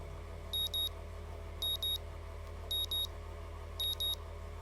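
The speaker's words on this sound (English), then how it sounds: "the sounds of my alarms quickly has me up and about" Alarm clock ringing in the visual novel Katawa Shoujo, four evenly spaced bursts of paired high electronic beeps over a steady low hum of background music.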